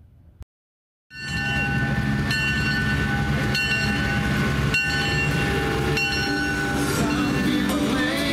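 CPKC 2816 steam locomotive and its train passing, a loud, continuous rumble with sustained high squealing tones and occasional clanks that starts suddenly after a brief silence.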